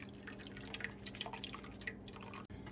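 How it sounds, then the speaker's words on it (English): Shrimp-peel broth drains through a strainer in a quick patter of close, bright drips and trickles over a faint steady hum, then stops with a brief dip near the end. "Now we are going to strain our broth that we made with our shrimp peels"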